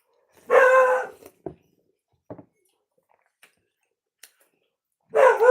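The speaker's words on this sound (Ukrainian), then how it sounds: "Це наш собака Тусик." A dog gives a loud, drawn-out bark, a few soft short sounds follow in near silence, and another loud bark comes at the end.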